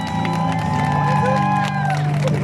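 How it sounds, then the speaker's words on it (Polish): A street audience at an evening sing-along in Wrocław claps and cheers in a brief, dense burst, with voices calling out over the applause. "Dzięki, brawa!"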